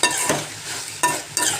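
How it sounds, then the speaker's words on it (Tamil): Ground tomato, onion, garlic and a little coconut sautéed in a pan for brinjal tamarind curry, a steady sizzle punctuated by three quick spatula scrapes; close and loud, with no talking. "நல்லா வதங்கட்டும்,"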